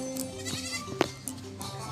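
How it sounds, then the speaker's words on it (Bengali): A goat bleats a few times while being caught at a Kali Puja gathering, giving short, fairly close cries over a steady low background hum. "যাচ্ছে ছাগল ধরতে।"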